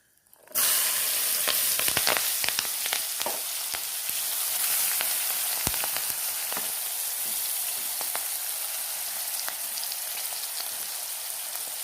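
Mangada (mango fish) frying in a pan, a continuous close sizzle and crackle with dense spitting pops that start abruptly and hold steady throughout, no voices.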